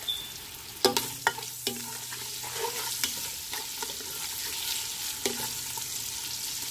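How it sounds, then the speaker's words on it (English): Seasoned beef deep frying in oil, with a soft steady sizzle broken by a few sharp clinks and stirring knocks from a utensil. The sound is close and fairly quiet. "We want to deep fry this dry."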